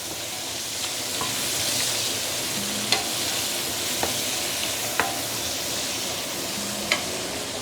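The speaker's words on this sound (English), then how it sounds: "now I'm going to put in the burnt chili paste." Burnt chili paste, about two big tablespoons, sizzles steadily in a hot pan for Muar style chili prawns, with a few sharp scrapes and clinks of stirring scattered through the close, even frying hiss.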